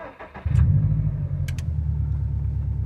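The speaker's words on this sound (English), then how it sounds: "it's hard to describe when the car is starting up. You really hear the ignition." A Subaru STI with a GrimmSpeed pitch stop mount cranks briefly and catches, then settles into a loud, steady low rumble close by, with a couple of faint higher clicks over the running engine.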